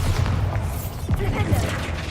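Bombarda explosion spell going off in Hogwarts Legacy, a muffled boom with crackling debris over rumbling game ambience, followed by a few fainter impacts.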